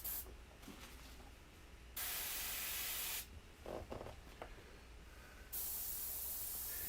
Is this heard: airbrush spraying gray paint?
yes